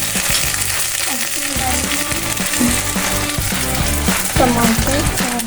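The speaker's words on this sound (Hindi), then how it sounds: "प्याज फ्राई हो रहा है" Onions fry for a dal tadka in a home kitchen, sizzling loudly and steadily with the scrape and clink of stirring, while a voice can be heard faintly in the background.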